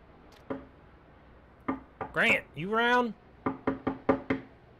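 Several sharp knocks on a door, first a single rap then a quick series of four or five close, crisp raps, with a man calling out briefly between them.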